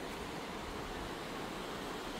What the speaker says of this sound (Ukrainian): О, нічого собі, як хвилі залітають.